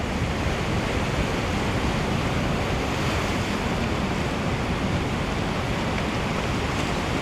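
Surf rolling onto a Maldives reef at the Vodi left break near Niyama resort, 4 to 5 foot sets breaking in a steady, unbroken roar with some wind across the microphone and no voices.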